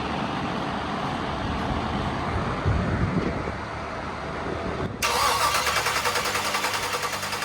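A 1957 Chevy engine cranks for its first start, grinding steadily for several seconds before it catches and settles into a loud, even idle close by, with no voices.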